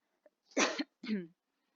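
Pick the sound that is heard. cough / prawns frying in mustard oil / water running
cough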